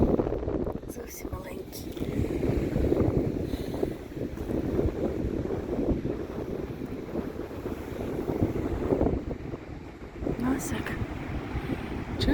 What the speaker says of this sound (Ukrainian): Цей гул, це не вітер, це гуде океан.